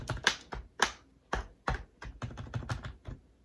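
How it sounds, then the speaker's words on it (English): Keys clack on a Bugha gaming keyboard from FiveBelow, a few sharp, close taps spaced apart, then a quicker run of lighter keystrokes. "if you're pressing keys, you know, you're gonna want a good responsive keyboard"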